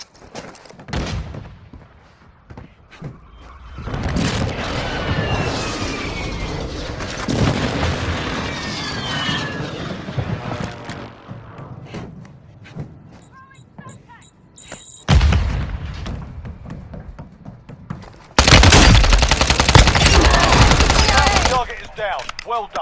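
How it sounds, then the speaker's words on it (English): Airstrike explosions in the mobile shooter Warzone Mobile, a sustained barrage of booming blasts and rattling gunfire rolling on for many seconds, with a brief lull before a final loud, dense burst of detonations. "Airstrike in the AO."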